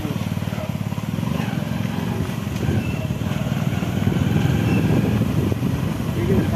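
A small motorbike rolls up to parking at Bhau Fort in Jammu, its engine putting steadily at low pitch and near, gradually growing a little louder, amid faint outdoor background noise.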